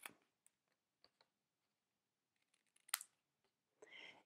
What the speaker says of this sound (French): Donc là, je vais couper les extrémités